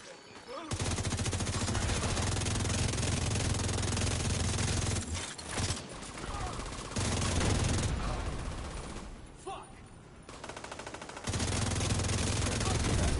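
Sustained automatic gunfire in The Division 2 against a heavily armored hostile, dense continuous bursts with brief pauses around the middle, loud and close throughout.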